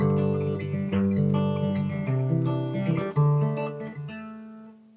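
Picked acoustic guitar playing the chord sequence of a song, each chord plucked string by string and left ringing, moving through several changes without any talking.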